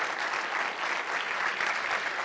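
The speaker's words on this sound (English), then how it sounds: "Give yourselves all a big round of applause." Dense, steady applause from an audience at a 2019 student showcase awards ceremony, many hands clapping together at full, even loudness throughout with no gaps.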